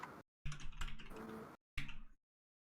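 Typing on a computer keyboard sounds as quick runs of close, clicky keystrokes in two short bursts separated by a brief silence, fairly quiet and with no talk.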